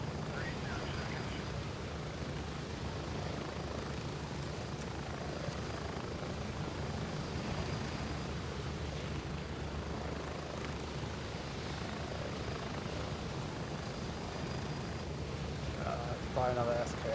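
A helicopter in the military shooter game Gray Zone Warfare thrums steadily, a continuous low rotor drone at moderate distance, with a faint voice talking over it.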